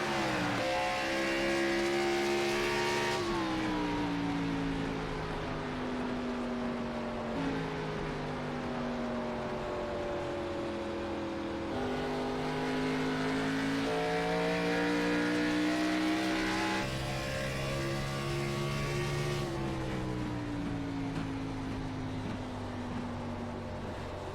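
Race car engines in a racing video game roar steadily with rising and shifting pitch as they accelerate and change gears, loud and continuous, with no talking.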